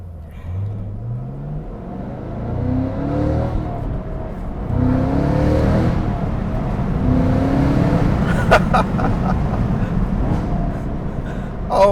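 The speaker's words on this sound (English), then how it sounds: "I got to hear that V8 again" A Cadillac CT5-V Blackwing V8 engine revs and accelerates, its pitch climbing through repeated gear sweeps, sustained and fairly close with no talk over it.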